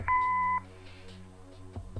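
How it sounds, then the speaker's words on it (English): An answering machine gives a single sharp, steady electronic beep lasting about half a second, followed by quiet line hiss and faint clicks. "Leave a message after the beep."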